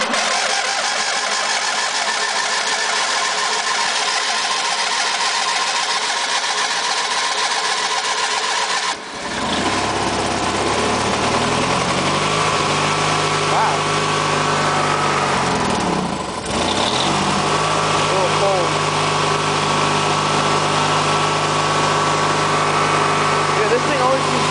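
An old MTD lawn tractor with a sticky choke cranks, then catches and settles into a loud, cold, slightly surging idle that dips and recovers partway through.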